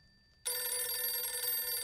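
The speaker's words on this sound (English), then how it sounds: "Phones are ringing already." An old-style telephone bell rings loud and close in the horror video game Visage, starting abruptly after near silence and continuing steadily with a bright, sustained metallic trill.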